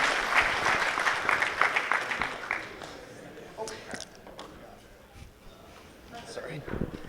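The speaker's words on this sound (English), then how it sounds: "Give him a round of applause." Audience applause after an item sells at a conference auction, dense clapping for about two and a half seconds before thinning out under talk and scattered claps.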